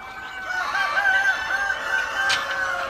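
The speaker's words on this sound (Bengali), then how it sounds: "এটা দেখেন সবগুলা মুরগি কত সুন্দর আছে, সুন্দরভাবে ডাকাডাকি করতেছে।" Chickens and roosters at a poultry farm raising super hybrid parent stock, crowing and calling together in a steady, fairly loud chorus with no talking.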